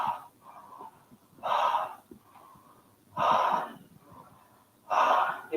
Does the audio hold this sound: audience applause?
no